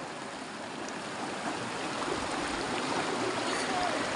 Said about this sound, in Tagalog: Malakas yung current ng tubig dyan,